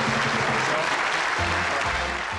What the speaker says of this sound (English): Will you please, ladies and gentlemen, give John a round of applause